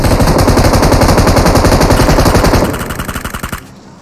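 Rapid automatic gunfire rattles loud and continuous in a multiplayer shooter match, a dense machine-gun burst that slows into a few separate shots before stopping.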